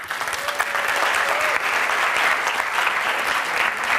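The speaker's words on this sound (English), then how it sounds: "I believe we deserve a round of applause" Steady, dense applause from a large audience at a national science quiz launch event, sustained throughout with no speech over it.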